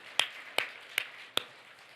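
A church congregation claps during a festival worship service; four sharp, evenly spaced claps ring out crisply against a quiet room, with no talking.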